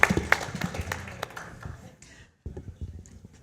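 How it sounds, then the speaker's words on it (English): Audience applause for a presenter at an evening event, a dense burst of clapping that is loud at first and thins out, briefly drops away, then resumes more softly. "Can we give him a round of applause for sharing his story today?"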